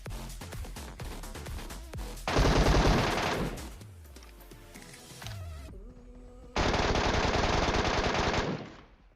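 Gunfire in PUBG Mobile during a close fight: two long bursts of loud automatic fire between scattered single shots and clatter, no voices over it.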